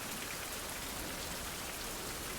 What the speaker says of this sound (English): I did turn down the environmental sounds as well, so rain should be quieter